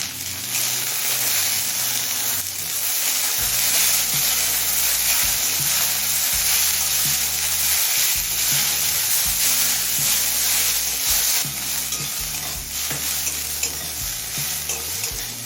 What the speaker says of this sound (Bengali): আলু আর পেঁয়াজটা তিন চার মিনিট ভেজে নিলাম